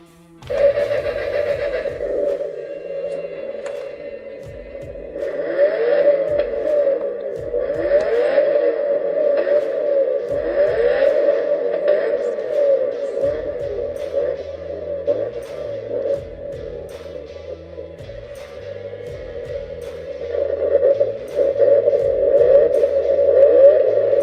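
A toy engine sound effect from a Nissan Skyline GT-R R34 scale model drones steadily for a long stretch, a buzzy electronic hum with faint clicks and tones layered above it.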